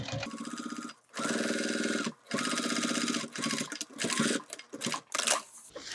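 A sewing machine stitches a cargo pocket onto a bag in steady loud runs, stopping briefly twice and then going on in shorter stuttering bursts near the end.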